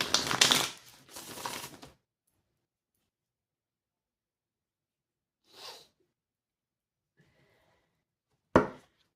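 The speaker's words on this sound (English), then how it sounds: "And now I'm going to shuffle" Tarot cards shuffled by hand: two dense riffling bursts up close at the start, then a long quiet gap broken by a soft rustle and a sharp, brief snap of cards near the end.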